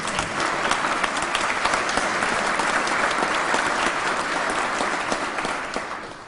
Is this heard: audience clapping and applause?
yes